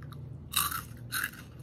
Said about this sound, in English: don't know if you guys hear that crunch